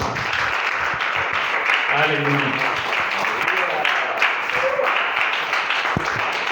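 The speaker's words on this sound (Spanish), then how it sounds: "denle un aplauso al Señor Jesucristo" A congregation at a Spanish-language church service applauds with steady clapping while voices call out and cheer over it, moderately loud in a large room.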